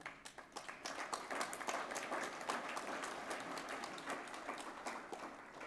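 An audience at an airport company's annual financial results presentation breaks into sustained applause, a steady wash of many hands clapping in a large room.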